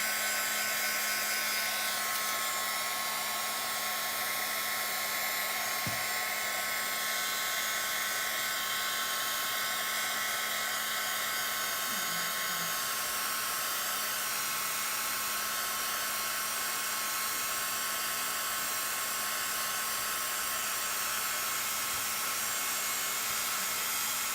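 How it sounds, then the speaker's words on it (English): A heat gun blows steadily to dry paint during a live painting demo, a continuous loud airy roar with a faint electrical hum that runs unbroken the whole time, no voices. "And then I'm gonna hit it with the heat gun. Let it dry nice and quickly here."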